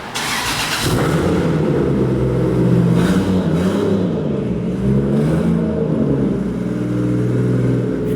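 A loud Lamborghini Revuelto with a Gintani exhaust rumbles and revs steadily, its deep throaty growl rising and falling with a few sharper bursts of throttle.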